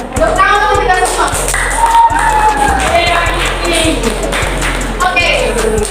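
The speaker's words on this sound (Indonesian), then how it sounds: "tepuk tangan untuk kita semua" A young student audience at a school careers talk claps and cheers, with loud crowd noise and excited shouting voices over scattered hand claps, continuous and close.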